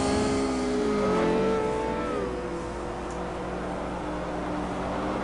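A race car in a racing game, from the Grand Sport World Tour series, brakes hard into a corner with the engine note dropping, then climbs steadily as it powers out onto the straight. The engine stays loud and close throughout.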